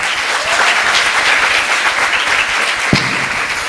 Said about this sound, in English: Give a round of applause again for her.